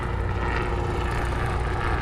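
Steady, loud roar of a Robinson R44 helicopter engine and rotor, a continuous dense drone without pauses, heard up close.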